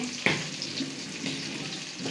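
Onion and chili frying in a pan: an even, hissing sizzle close by, with a brief sharp tick near the start and no voices.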